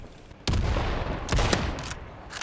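Sniper rifle shots in a free World War II shooter game: a loud sharp report, then another pair of cracks about a second later, with battle noise rumbling between.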